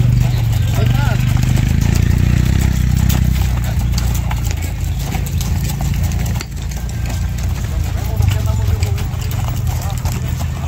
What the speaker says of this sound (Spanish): Mira, qué bonito caballo blanco. Hermoso caballo.